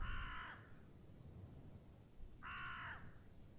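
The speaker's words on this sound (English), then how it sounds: "Sounds like we still got those crows following us." Two bursts of crow cawing, a short call at the start and another about two seconds later, fairly loud over a low ambient bed in a text adventure video game.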